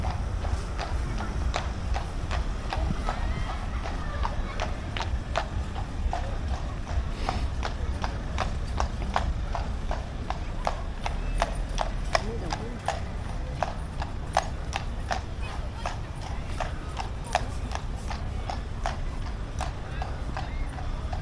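Horse-drawn carriages on a street along the Blackpool Lights, with a steady rhythmic clip-clop of hooves ringing close by, continuous throughout and underneath people chatting.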